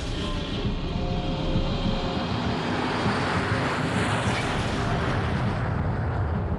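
A Concorde jet airliner taking off, a loud, steady, broadband roar of engine thrust that holds at full strength throughout with no voices over it.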